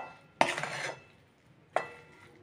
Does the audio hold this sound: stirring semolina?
yes